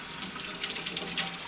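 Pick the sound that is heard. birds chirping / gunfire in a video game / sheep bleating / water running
water running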